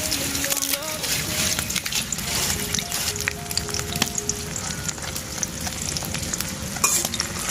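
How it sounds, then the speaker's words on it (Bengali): Chopped onions with cardamom, cinnamon and bay leaves frying in a pan in a village kitchen, a steady sizzle under repeated scraping stirs, with a quiet voice talking over it. "কিছুক্ষণ নেড়ে চেড়ে পেঁয়াজটাকে ভেজে নিব যতক্ষণ না পর্যন্ত পেঁয়াজটা নরম হয়ে যায়"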